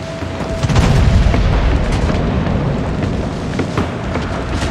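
Loud, close cannon fire and a heavy explosion in a video game, a deep booming blast that rolls on as a sustained rumble throughout.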